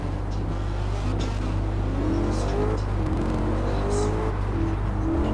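A Ford Shelby GT500 Mustang engine in Forza Horizon 4 with a drag setup drones and revs steadily through rising gear pulls, loud and continuous, with people talking over it.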